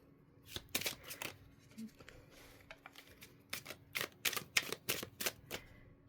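Tarot cards being shuffled and drawn by hand, with quick papery riffles and soft flicks in uneven bursts, close and quiet against a faint background hum.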